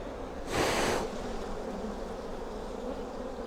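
Honey bees buzz on hive frames while queen cells are being cut out. A close, loud burst of buzzing swells for about half a second, then drops back to a low, steady hum of the colony.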